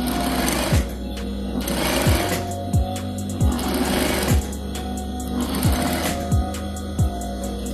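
A sewing machine stitching fabric for a handmade bag, running in a steady fast mechanical rattle with regular pauses and restarts between bursts, loud and close with no talk over it.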